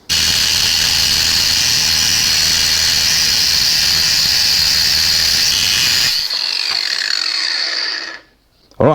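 Power tool cutting threaded rod held in a vise, a loud, steady high-pitched grinding whine that runs continuously and then winds down before stopping near the end.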